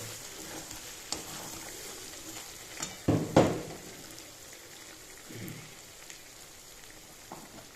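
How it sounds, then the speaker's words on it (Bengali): Mutton coated in meat masala is stirred in a pan while cooking mutton kosha. A soft sizzle runs throughout, with a few louder scraping clatters near the middle and faint stirring knocks later. "একটু নাড়াচাড়া করে নেব।"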